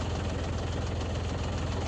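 A tractor engine idling at about 1,000 RPM, a steady low rumble with a faint knocking pulse, close and continuous with no voices.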